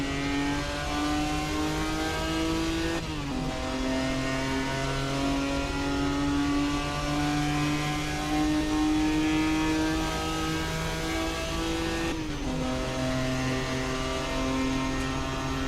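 Simulated 1967 Jaguar E-Type engine racing at Le Mans in Assetto Corsa, heard as a loud, continuous straight-six roar holding high revs with two clear gear shifts that drop the pitch, close and dominant without talk.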